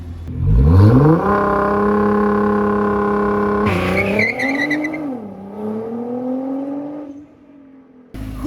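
A Nissan GT-R R35 launches hard, its engine revving loudly and climbing through gears with a sustained tire squeal, close and alone, before the roar drops away.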